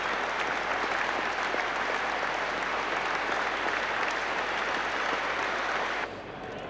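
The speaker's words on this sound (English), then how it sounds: "let's let the applause speak for itself" Cricket spectators at the Melbourne ground applaud in a thick, continuous roar of clapping that holds steady, then drops noticeably quieter near the end as it begins to fade.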